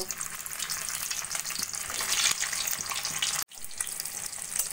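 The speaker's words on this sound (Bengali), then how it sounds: "একইভাবে বাকি চিকেন বলসগুলো ভেজে নেব।" Chicken balls sizzle steadily in hot oil in a home kitchen, a continuous crackling fry with faint stirring clinks and a brief drop in sound near the end.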